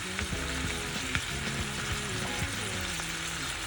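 Food stir frying in a pan with ginger, chili powder and garlic powder, a dense, continuous sizzle close by with light scraping and stirring knocks throughout, no voices.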